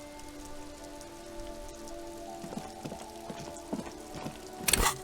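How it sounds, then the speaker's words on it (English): Steady rain patters on surfaces in the Disco Elysium video game, a soft continuous hiss with faint droplet taps, a low musical drone beneath and a brief sharper splash near the end. "This rain will not let up anytime soon."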